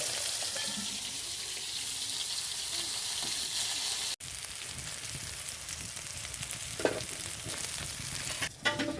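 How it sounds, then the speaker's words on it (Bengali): Fish fry in a pan with a constant, close crackling sizzle, briefly cut off midway and punctuated by a few light utensil clinks. "মাছ ভাজা হচ্ছে"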